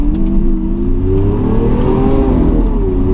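A Lamborghini Aventador SV engine revs hard and steadily up close, a loud, throaty roar that rises and dips slightly without any talking.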